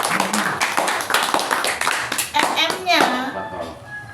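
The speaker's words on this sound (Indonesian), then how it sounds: "Beri tepuk tangan yang sangat meriah." Audience applause rings out at a community gathering, quick dense clapping from many hands over several seconds, mixed with voices and a child's speech, gradually thinning toward the end.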